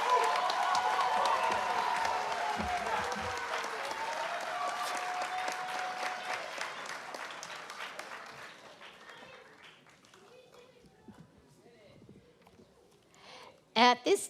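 An audience applauds the 2024-2025 graduates at a Jersey College graduation ceremony in Ft. Lauderdale, sustained clapping with some cheering that gradually fades out, followed by a few sharp bumps near the end.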